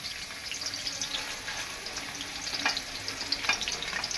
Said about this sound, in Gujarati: તેલના અંદર આપણે નાખી દઈશું સૂકું લસણ, પછી આદુ લસણની પેસ્ટ નાખી દઈશું